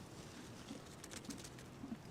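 A bird calls near a rocky shoreline fishing spot where yellowtail are being caught, giving a few soft, low calls spaced roughly half a second apart, faint and distant under steady outdoor background noise.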